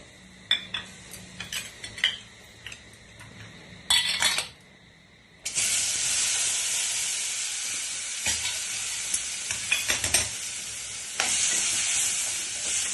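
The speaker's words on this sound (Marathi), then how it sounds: "या फोडणीमध्ये मी आता थोडा मसाला टाकते" Loud sizzling of masala spices hitting hot oil in a tempering bursts in after a few clinks and stirring sounds, then crackles steadily with occasional utensil scrapes.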